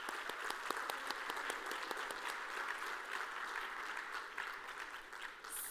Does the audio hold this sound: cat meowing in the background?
no